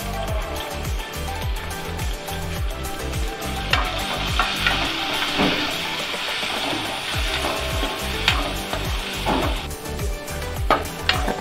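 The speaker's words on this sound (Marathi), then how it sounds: "हिंग, अर्धा चमचा हळद आणि थोडंसं तिखट घालून आपण हा कांदा परतून घेऊया" Chopped onion sautéing in hot oil with asafoetida, turmeric and chili powder for a papad curry, a steady close sizzle with frequent scraping and stirring clatter against the pan throughout, no voices.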